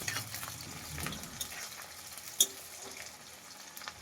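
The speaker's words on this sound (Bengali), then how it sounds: "পেঁয়াজটা একদম হালকা করে ভেজে নেব, খুব বেশি ভাজবো না।" Onion frying lightly in a pan for a spicy Bengali pabda fish curry, a soft steady sizzle with watery crackle and a single sharp tap near the middle.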